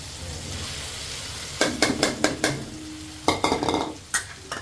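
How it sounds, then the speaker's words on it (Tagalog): Cooked tulingan fish stirred in a cooking pot over a soft sizzle, with two bursts of quick rhythmic scraping and clinking from the utensil, close and clear. "Parehaluin natin para lumasa."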